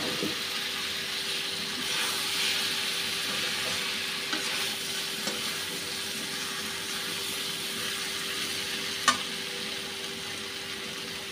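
Fried potatoes and soybean chunks go into sizzling spices for an amish soybean potato curry, a steady oily hiss with occasional stirring scrapes and a sharp clink near the end, close and without talk.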